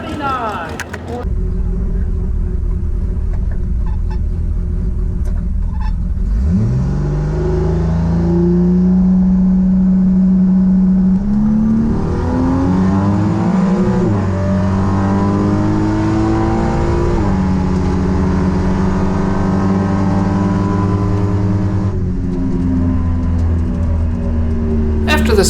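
A 9-second street car revs and accelerates hard down a drag strip during prep for Midwest Drags, the loud engine note climbing steadily through the gears for most of the run, with speech mixed in.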